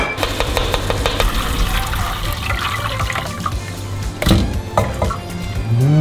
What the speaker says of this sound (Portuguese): vais meter aqui vinho branco e vais deixar a carne absorver